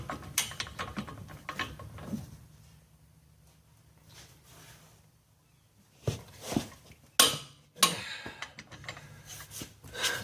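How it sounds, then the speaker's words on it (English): Torque wrench clicks and ratchets while tightening the front axle nut on a Dodge Ram 2500/3500 with a 6.7 Cummins, a run of close mechanical clicks, then sharp louder clacks near the end, with no talking. "put your axle nut on, and we're going to torque that down to"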